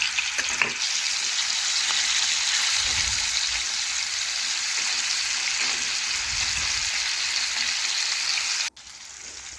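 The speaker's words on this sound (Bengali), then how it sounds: "এখন এক এক করে মাছ আমি তেলের মধ্যে দিয়ে ভেজে নেব।" Fish pieces fry in hot oil in a wok, giving off a loud, steady sizzle that crackles continuously, with a few brief bursts of louder spitting along the way.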